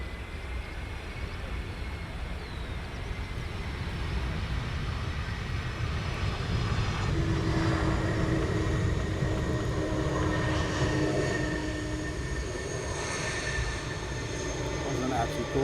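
Airliner touching down at Luton Airport, a steady broadband engine and airframe roar running throughout, rising slightly midway with a low rumble as the aircraft rolls out on the runway.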